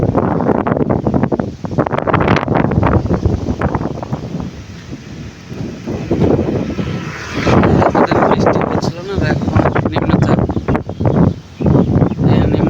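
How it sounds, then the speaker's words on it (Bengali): Strong gusty wind from Cyclone Remal at Digha roars and buffets the microphone in rising and falling surges, loud and continuous throughout. "সাথে ঝড়ো হাওয়া বইছে"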